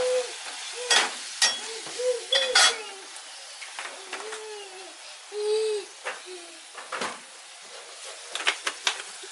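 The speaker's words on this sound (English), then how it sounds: "baby's mixing up the meat" Seasoning being worked by hand into raw ground meat for Mexican egg rolls in a home kitchen, heard as soft, wet squishing and slapping bursts scattered among light kitchen noise, with people talking now and then.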